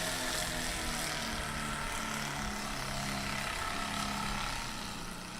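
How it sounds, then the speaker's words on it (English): A light STOL aircraft taxis on the airfield at a Sodbusters STOL competition practice in Hartford, Wisconsin, its propeller engine droning steadily and loudly throughout, with no talk. "looks like Scott is taxiing back to the line"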